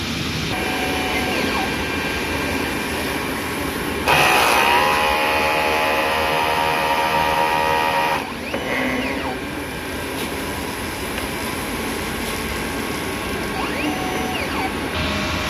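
A DTF printer runs a head clean cycle, giving a continuous mechanical whir with pumping and servo sweeps, the tone shifting as the cycle moves between stages, steady and fairly loud with no talking.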